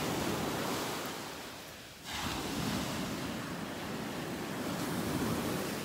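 Ocean surf rolls onto a beach in North Naples, Florida, a steady broad wash of breaking waves with a brief lull before the roar swells again, continuous and close.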